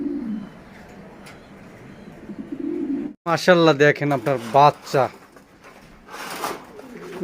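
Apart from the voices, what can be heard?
pigeons cooing at a pigeon farm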